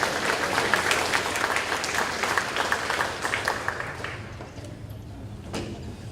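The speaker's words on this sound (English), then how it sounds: "let's go ahead and applaud" Audience applause for students at a high school academic awards ceremony, a dense burst of many hands clapping close by that gradually thins and fades over the last couple of seconds.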